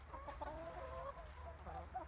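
Chickens cluck softly and intermittently close by, with a few short rising squawks among the low murmuring clucks over a faint steady background hum.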